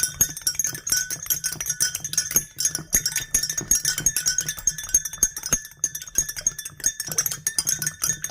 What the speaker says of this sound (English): Okay, here we are adding and stirring.